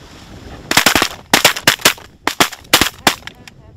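Shotguns firing at ducks and geese during a hunt in a blizzard: a rapid volley of about a dozen loud, close blasts in quick clusters with short pauses between.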